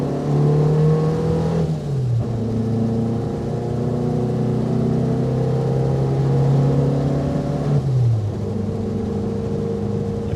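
A Renault Dauphine 1093 accelerating hard, its engine droning loudly close by as the pitch climbs steadily, then dips briefly at two gear changes before rising again.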